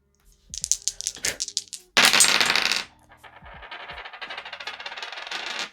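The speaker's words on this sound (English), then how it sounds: "These dice need to shake it up for me." Dice are rattled in a hand in quick bursts, then tumble out with a loud clatter, followed by a lighter rolling and scraping across a surface as they settle during a savings challenge.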